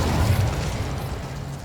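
Fiery burst of the Incendio spell in Hogwarts Legacy, a muffled whooshing boom with a low rumbling tail, fairly loud and continuous for a moment.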